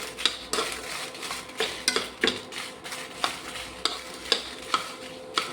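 Dried Byadgi and Guntur chillies roasting in a pan, stirred with a utensil: steady rhythmic scraping and light clinks against the metal over a faint dry sizzle, close and moderately loud, with no talking.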